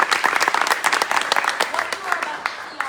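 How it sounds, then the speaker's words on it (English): Theatre audience at a new play festival breaks into a round of applause, dense sharp clapping filling the hall, with some voices mixed into the crowd. "Can we give them a round of applause?"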